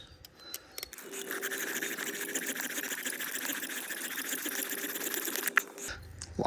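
A bow drill spins against a wooden fireboard, making rapid back-and-forth scraping and squeaking strokes in a steady rhythm for several seconds, close by and fairly faint, before stopping abruptly.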